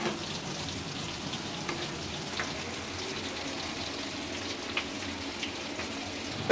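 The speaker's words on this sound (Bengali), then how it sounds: "আর এদিকে কাঁকরোল ভাজি হইতেছে" Teasel gourd (kakrol) fries in a pan with a moderate, even crackling sizzle like light rain, steady throughout with a few sharper pops.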